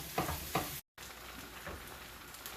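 Spicy Singapore noodles with shrimp and chilli flakes are mixed in a pan, giving a faint, low sizzle with a few soft scraping stirs and a brief dropout of sound partway through.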